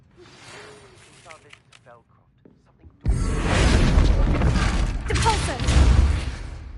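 In Hogwarts Legacy, a Confringo fire spell strikes a training dummy. A quiet, breathy stretch gives way to a sudden loud, roaring blast that stays dense and rumbling for several seconds.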